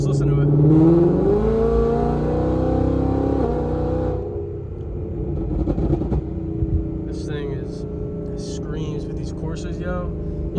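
A Ford Mustang GT with Corsa exhaust and long-tube headers rumbles nearby, a deep engine burble that revs and then settles to a lower steady idle, while someone talks over it.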